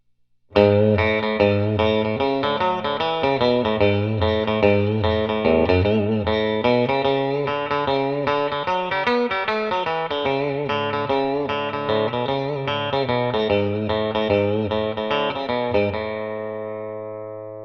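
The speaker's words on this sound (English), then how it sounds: "And with spring reverb." Telecaster electric guitar on the bridge pickup, played as a run of jangly, bright licks through spring reverb, with the notes ringing out and trailing off with a lingering reverb tail at the end.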